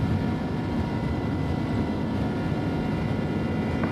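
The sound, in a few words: A300-600R jet engines at takeoff thrust, X-Plane 11 video game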